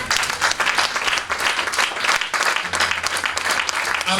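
A church congregation applauds in sustained, dense clapping that holds steady and loud throughout, with no pauses.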